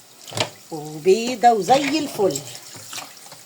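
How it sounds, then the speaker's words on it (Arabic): Tap water runs in a kitchen sink while a farm-raised red rooster is rinsed, a soft steady splashing under a woman's close speech. "بس الميه كده مفتوحه عليه"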